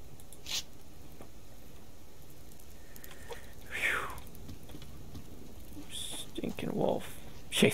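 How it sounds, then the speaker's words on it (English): A chicken in the survival video game Subsistence clucks in a few short, scattered bursts over quiet background noise, and some louder clucks come toward the end. "Chase me off the one chicken that I finally come across."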